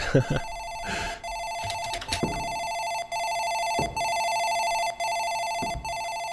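A telephone rings repeatedly inside the horror video game Mirror Mirror, a steady electronic trill broken by short regular pauses, loud and close, with a few game thuds and clatters early on and no voices.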